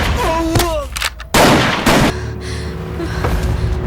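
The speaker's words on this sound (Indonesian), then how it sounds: "Dheeraj kemudian membawa keluar Nindya dan mengajak Agastya untuk beradu senjata." Gunfire in a film gunfight: loud booming shots and blasts crack out in quick succession, followed by a lower rumbling tail.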